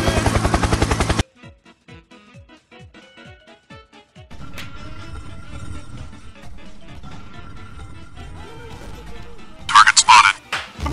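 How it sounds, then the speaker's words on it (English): A helicopter in the Roblox Slap Battles video game gives a steady droning whir under rapid repeated game effects, with bursts of loud sound at the start and end. "Helicopter, helicopter."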